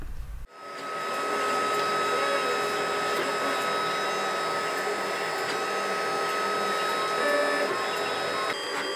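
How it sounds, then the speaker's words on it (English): A Lulzbot Mini 3D printer with a Flexi Extruder and a 0.6 mm nozzle prints flexible NinjaFlex rubber at high infill density. It gives a steady, close whirring hum with fan noise that starts abruptly and runs evenly to the end. "they're going to be printed in a fairly high density infill in NinjaFlex on the Lulzbot Mini with the Flexi Extruder"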